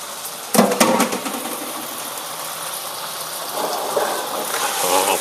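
Kway teow noodles sizzling and frying over high heat in a non-stick wok, with a sharp clatter as they are stirred, then a steady hiss of frying that swells toward the end.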